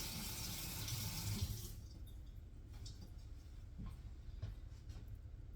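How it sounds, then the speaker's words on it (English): Tap water runs steadily while a fork is rinsed under it in a home kitchen during slaw preparation, a close hiss that is strongest at first and then settles into a softer, continuous flow with faint clinks. "let me rinse this fork off"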